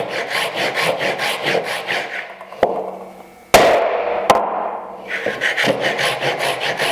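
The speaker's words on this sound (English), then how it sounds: "go as far down as possible with this saw because this creates a reference and it creates an absolute straight cut" A hand saw cuts a straight kerf in wood for a miter joint: rapid rhythmic rasping strokes, then a pause with a couple of knocks, then the steady sawing resumes, close and loud.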